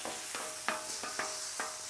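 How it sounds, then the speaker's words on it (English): Spoon stirring microwaved Cheez Whiz cheese sauce in a container, with five soft scraping strokes at a steady rhythm, close and fairly quiet. "Give it a good stir,"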